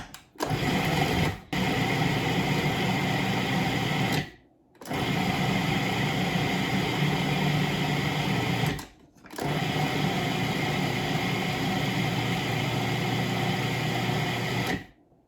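Food processor whirring loudly and steadily as it blends sourdough cracker dough, running in three long bursts with brief pauses between them.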